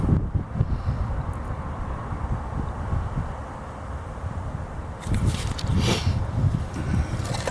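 Wind buffets the microphone in low rumbling gusts throughout, swelling louder and rougher toward the end.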